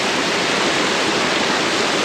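Vasudhara Falls near Badrinath roars as a steady, dense wash of falling water, close and loud, unbroken throughout with no voices.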